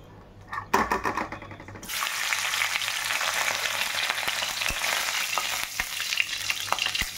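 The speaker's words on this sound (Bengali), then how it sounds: "এবার এই মাথাটা একটু ভেজে নেব।" A fish head, from a hilsa recipe, drops into hot oil in a wok, with a brief clatter before a loud, steady sizzle erupts and continues with occasional stirring knocks.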